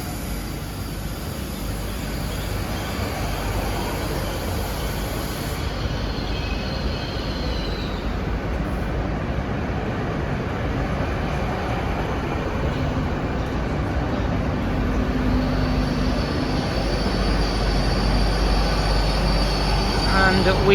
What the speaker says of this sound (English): arriving in now is the 2154 Great Western Railway service from London Paddington to Weston-super-Mare